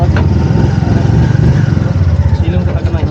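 A motorcycle engine runs loud and close with a rapid, throbbing low putter, while people talk over it.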